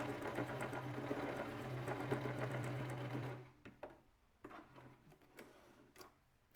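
A domestic sewing machine runs stitch number 2 in a fast, steady whirring rattle for over three seconds, then stops, leaving a few scattered clicks and knocks.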